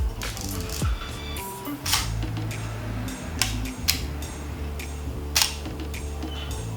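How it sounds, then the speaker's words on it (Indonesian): A Pentax P30T film camera's shutter fires several times, each a short crisp click with mechanical clatter, close and fairly loud, spaced about a second or more apart over faint background hum. "Ini kalau misalnya penasaran nih, kalau misalnya di shutter tuh kayak gimana."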